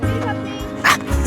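A dog yips and barks a few short times close by on a countryside walk, with a person talking over it.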